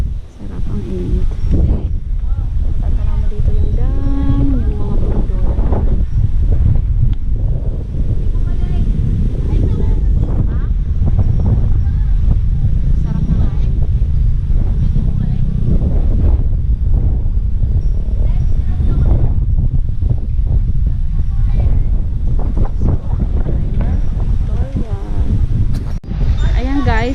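Gusty wind buffets the microphone at the Ipo Dam viewdeck in Norzagaray, Bulacan, a constant loud low rumble throughout, with people talking underneath.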